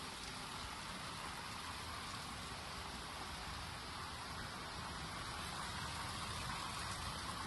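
Steady rain falls continuously as an even, dense hiss of drops on surfaces in a town setting, unbroken throughout with no voices.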